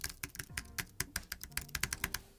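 Rapid, light keystrokes tap away on the keyboard of an M1 MacBook Pro 13, a crisp irregular patter of clicks heard up close with no talking.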